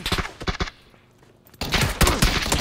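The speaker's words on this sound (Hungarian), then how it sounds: "most lövöldöz" Gunfire in an online shooter video game, probably the sound of a UMP among other weapons: rapid bursts of automatic shots, a short lull, then a louder, denser volley of sustained fire.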